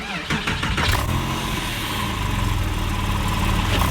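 A car engine cranks and catches, then settles into a steady, loud idle with a low rumble close by.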